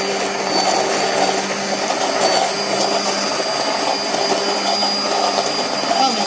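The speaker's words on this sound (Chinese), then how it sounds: "好，现在我们要把这个鲜奶油打发" An electric mixer whips fresh cream for homemade tiramisu with a steady, close motor whine that stays constant and fairly loud throughout.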